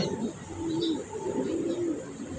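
Pigeons cooing nearby in Urdaneta, Pangasinan, soft rolling calls repeating over faint background noise and chirps.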